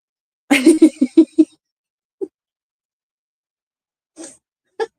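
A short series of sharp nasal bursts, a sneeze-like fit close to the microphone, followed by silence and a few faint breathy sounds.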